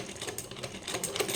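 A sewing machine is run with the foot pedal, giving a quiet, steady, fast rattling stitch that continues without a break for the whole moment.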